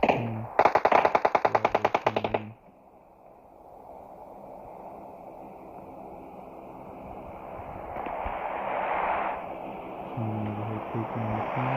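Rapid automatic gunfire in the video game PUBG Mobile, a loud close burst of about two seconds of fast repeated shots, followed by quieter ambient wind and distant movement with a few faint later shots.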